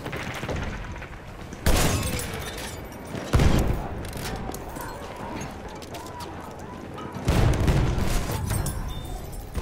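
Grenade blasts and gunfire in the World War I shooter Battlefield 1, with three heavy booming explosions at intervals over a constant rumble of distant battle noise, and voices calling out in the mix.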